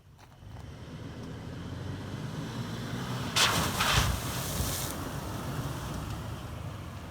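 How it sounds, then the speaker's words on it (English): An off-road vehicle drives through the first water crossing on the Mojave Road, engine rumbling steadily, then a loud, broad splash and rush of water surges for about a second and a half before the drive noise settles again. "we're at the first water crossing of the Mojave Road"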